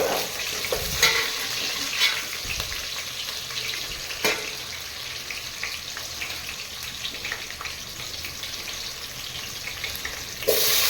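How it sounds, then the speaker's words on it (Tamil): Onions frying in a pan for Tamil-style country chicken biryani, with green chillies being added: a steady close sizzle and crackle with stirring scrapes and a few louder clanks, no talking. "வெங்காயம் கொஞ்சம் நல்லா வதங்கிருச்சு, ப்ரௌன் கலர் ஆகிடுச்சு. இப்போ பச்சை மிளகா சேர்த்துக்கலாம்."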